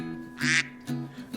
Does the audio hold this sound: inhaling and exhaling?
no